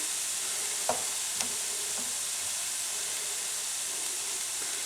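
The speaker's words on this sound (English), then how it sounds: "we're going to add some thinly sliced onions to the pan" Thinly sliced onions hiss in a hot stir-fry pan as part of a beef and broccoli stir fry, making a broad, even sizzle with a couple of faint clicks from stirring early on, and no talking.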